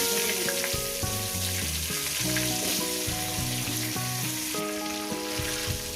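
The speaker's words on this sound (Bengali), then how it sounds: "এবার আলুগুলো আমি দিয়ে দেবো আলুগুলোকে সুন্দর করে লাল লাল করে" Potatoes frying in a pan with turmeric while cooking a chicken curry, a steady sizzle running under loud tonal background music throughout.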